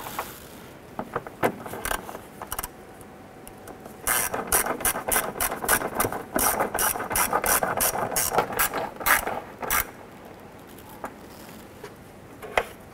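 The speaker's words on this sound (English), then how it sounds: "Once you get the hardware installed, go ahead and snug it down." A hand ratchet snugs fender bolts on a 1997-2006 Jeep Wrangler, giving close, crisp clicking in quick bursts with short pauses between strokes, loud and without talk.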